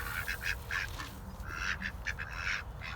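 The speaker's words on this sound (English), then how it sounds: "So the ducks always have a lot to say," Several ducks quack repeatedly in quick, overlapping bursts, fairly close, over a steady low background hum.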